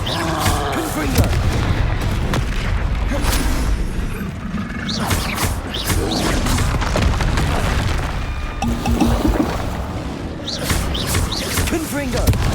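Confringo explosive spell blasts in Hogwarts Legacy, a dense, continuous barrage of booming impacts and crackling bursts with battle effects throughout, and voices shouting over the combat.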